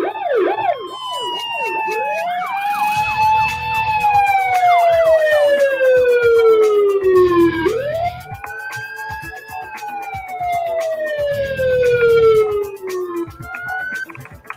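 Emergency vehicle sirens from the Emergency 4 video game with a London modification wail loudly and continuously, sweeping up and down in long repeating cycles with no talk over them.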